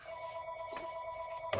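A telephone rings indoors in a crafting room, a steady electronic tone with two short bursts of extra noise, heard at moderate distance without speech.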